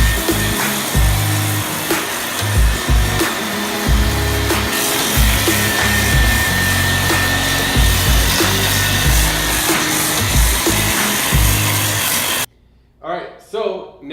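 A machine fitted with diamond pads grinds and etches a concrete floor with a continuous rough, rumbling whir that pulses slightly, loud and close. It cuts off near the end, and a person speaks briefly.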